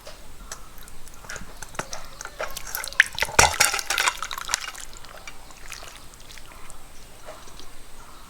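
Cooked broiler chicken is poured out of a small mini rice cooker: light wet splashing and clinking against the pot swell into a brief denser pour midway, then fade to faint drips.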